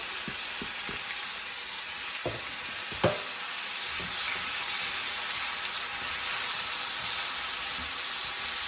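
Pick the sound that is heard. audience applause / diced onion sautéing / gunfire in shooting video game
diced onion sautéing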